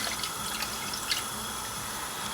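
Water pours steadily into a cooking pot for a Pakistani steak curry, a continuous splashing stream with a few faint drips, and no voices.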